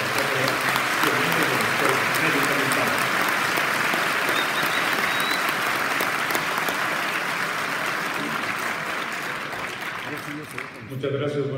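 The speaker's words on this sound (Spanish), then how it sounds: "recibámoslo con un fuerte aplauso." Loud, sustained applause from an audience at a military medical school centenary ceremony welcomes a speaker, a dense wash of clapping that holds for about ten seconds before tapering off at the end.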